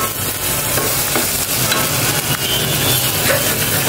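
Masala being stirred round and round in a pressure cooker, a continuous close scraping and sizzling with steady rhythmic stirring throughout, no voices.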